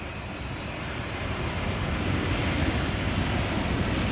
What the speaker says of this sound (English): So 777-200 arriving from Guayaquil